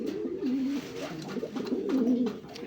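Racer pigeons coo continuously in low, rolling, wavering phrases, close and moderately loud, with the murmuring calls overlapping throughout.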